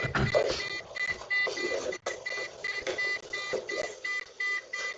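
A printer whirs and chatters in uneven bursts, mechanical feeding noises stopping and starting with short pauses, close by and fairly loud.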